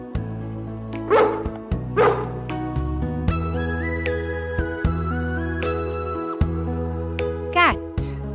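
A dog barks a couple of times in short, clear bursts over a bouncy children's music backing, with a child-like voice also present.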